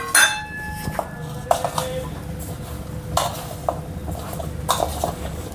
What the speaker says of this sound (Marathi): आवडे चांगले मिक्स करूया